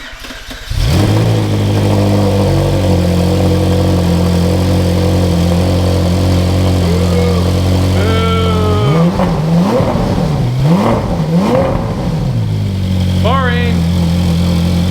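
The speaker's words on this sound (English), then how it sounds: "we're going to get a cold start of the shipbox exhaust" A Ferrari 458 V8 with a titanium aftermarket exhaust cranks and fires up from cold, settling into a loud steady idle with a few sharp revs midway, then back to a rumbling idle.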